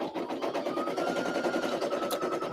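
An embroidery sewing machine quilting a 5x7 design runs with a fast, steady mechanical stitching rattle, close and continuous throughout.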